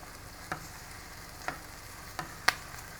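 Ground beef cooks with onion and green pepper for sloppy joes, making a faint, steady sizzle, with four sharp spoon taps against the pan at roughly even intervals.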